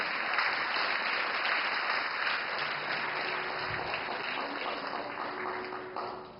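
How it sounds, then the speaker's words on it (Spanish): A church congregation applauds for Jesus Christ in a strong, dense round of clapping that carries steadily throughout, thinning slightly and fading near the end. "Dale un aplauso fuerte a Jesucristo."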